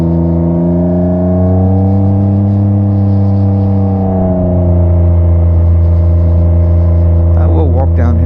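A 2021 Can-Am Ryker Rally with a loud aftermarket exhaust idles close by in a deep, steady rumble, the pitch shifting slightly midway, while someone talks briefly near the end.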